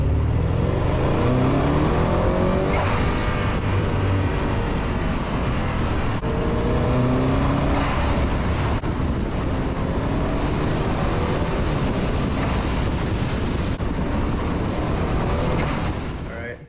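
An Audi S6/S7 with the 4.0T engine and a blow-off valve, heard from outside: a steady engine and road roar, with several short, sharp airy hisses bursting out over it as the valve vents.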